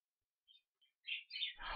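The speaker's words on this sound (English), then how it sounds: "sorry for the birds chirping in the background" Small birds chirp and tweet in quick, high bursts, sparse at first and then denser, ending in a busier stretch of calls, all fairly faint and at a distance.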